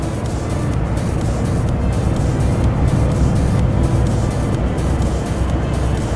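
Steady, loud engine drone and road rumble from trucks driving along a highway in Euro Truck Simulator, continuous and unbroken with no talking.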